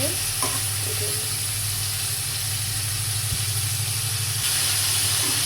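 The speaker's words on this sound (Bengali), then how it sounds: "ফুলকপি আমার ভাজা হয়ে গেছে এবার উঠে নেব হালকা করে ভেজে নিয়েছি" Cauliflower frying in a pan with a little added water, a dense, steady hiss of sizzling oil and steam heard close, with a low background hum and a few faint knocks.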